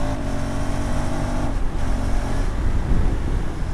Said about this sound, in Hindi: आप विदाउट प्रेसिंग द क्लच आप गियर को अप शिफ्ट डाउन शिफ्ट कर सकते हो लाइक दिस